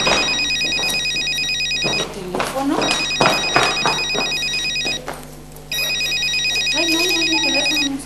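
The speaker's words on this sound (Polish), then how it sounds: "To moja komórka?" A mobile phone ringtone plays in repeated electronic bursts, with people talking and moving about between and over the rings.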